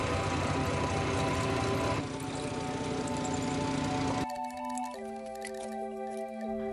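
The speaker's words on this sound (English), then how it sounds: "On each piece, I'll drill and tap a hole for some threaded rod." Metal being drilled and tapped on a small lathe while building a letterpress impression depth mechanism, a steady loud machining whir that changes pitch partway through and then settles into a quieter sustained hum.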